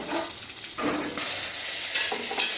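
Jute leaves cooking in a pan with poppy seed paste and mustard-green chilli paste, stirred with a steady sizzle that grows louder and hissier partway through, close and without talk.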